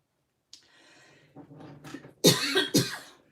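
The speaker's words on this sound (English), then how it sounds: "I'm so sorry for the coughing" Several harsh coughs up close, starting with a short throat clear, then building to two loud, chesty bursts.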